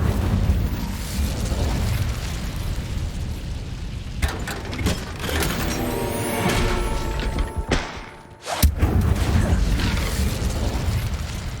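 An Incendio fire spell in the game Hogwarts Legacy bursts out in fiery whooshes and thuds, with mechanical clatter and a sharp boom near the end over steady game ambience.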